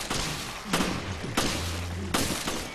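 Gunshots fired at zombies in Resident Evil Revelations: three loud, evenly spaced blasts over a dense, noisy game background, with no talking.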